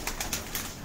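A pigeon at a breeder's shop in Karachi gives a brief, soft series of close coos, three or four quick pulses with no talking over them.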